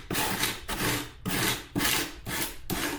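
A small grater-like rasp scrapes across foam in six steady back-and-forth strokes, each a dry, close rasping rush separated by brief pauses, with no voices.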